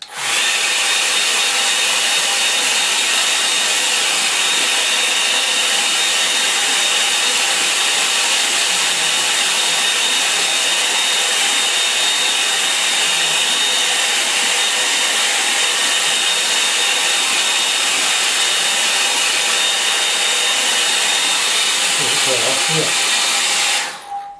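A hair dryer dries a watercolour painting, blowing with a loud, steady rush for the whole stretch and no breaks or spoken words.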